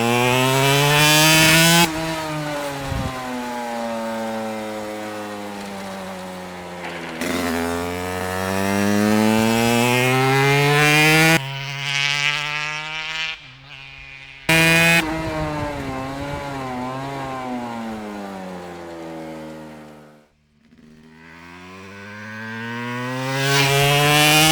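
Langen two-stroke cafe racer motorcycle on a test ride, its engine loud and close, repeatedly revving up through the gears with rising and falling whine, a brief drop-off near the end before climbing again.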